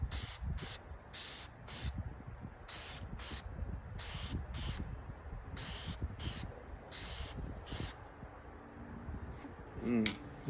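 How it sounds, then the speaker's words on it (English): Glitter spray paint hisses out of a can in a series of short, loud bursts, roughly a dozen spaced test sprays over ten seconds, with faint background noise between them. "Do a little test spray."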